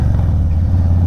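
A Harley-Davidson Softail Street Bob FXBB with a Two Brothers aftermarket exhaust runs steadily, a deep, loud low rumble held in one gear without a break.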